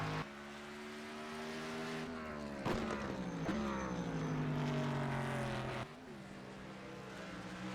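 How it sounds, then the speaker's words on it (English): The 83 race car of Don Kelligrew on warm-up laps at Road America, its engine droning steadily with shifting pitch as it passes, rising and falling through gear changes, with no talk over it. "So right now we're watching the 83 car of Don Kelligrew make his warm-up laps"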